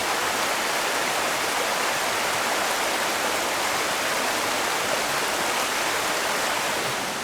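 River water rushes steadily through a generating station chute on Manitoulin Island, a loud, dense, unbroken roar of turbulent flow close by, with no voices.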